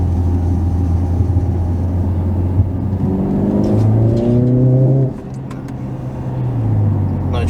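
A Mercedes CLA45s pulls away on a wet road, its engine rising in a loud revving climb as the tires lose traction, then briefly dropping off before building again near the end.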